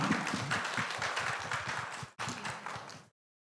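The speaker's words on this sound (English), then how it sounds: "let's give our phenomenal panelists a well-deserved round of applause" An audience gives a panel discussion's panelists a warm round of applause, many hands clapping in a lively, rhythmic burst that dips for an instant, resumes, and then cuts off abruptly into silence.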